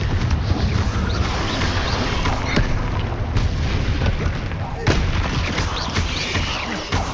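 Confringo blasting spell cast in Hogwarts Legacy, loud dense rumbling bursts and crackling blasts filling the whole stretch, with sharper booms near the middle and late, over continuous game combat noise.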